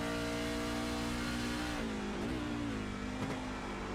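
A race truck engine screams continuously in a racing video game at Watkins Glen, holding a loud steady drone and then shifting up a gear with a brief dip and climb in pitch.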